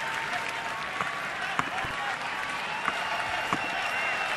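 Baseball stadium crowd applauding through a full 3-2 count at a 2013 game, a steady distant wash of clapping and crowd noise with a few sharper claps, under faint talk.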